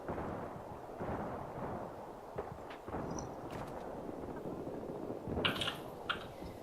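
Gunfire in the Battlefield 3 video game on the Operation Métro map, scattered faint shots and distant thuds, then a brighter, sharper cluster of shots toward the end, all fairly quiet under background game ambience.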